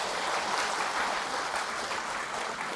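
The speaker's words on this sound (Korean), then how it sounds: "신부님께 다시 한번 큰 박수" Sustained audience applause for a priest after his lecture at a Catholic diocesan Legion of Mary training session, dense and steady hand clapping throughout with no talking.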